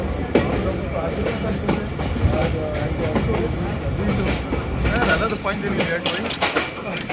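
A train rumbles along steadily with rhythmic clacking of wheels over rail joints, heard from on board the Awam Express as it enters the loop line at Hasan Abdal railway station, Pakistan, with faint voices now and then.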